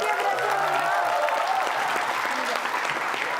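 Audience at a live stage show breaking into steady, dense applause, many hands clapping continuously at close range with crowd noise and a voice talking over it.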